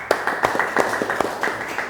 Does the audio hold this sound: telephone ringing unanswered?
no